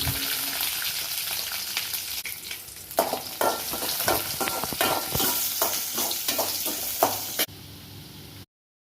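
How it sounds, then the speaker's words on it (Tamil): Chopped small onions sauté in hot oil with dried red chillies and curry leaves for a sweet potato stir-fry. A loud, continuous sizzle is broken by frequent scraping stirs of the spatula, and it cuts off abruptly at the end. "வெட்டி வச்ச வெங்காயத்தை போட்டுக்கலாம்"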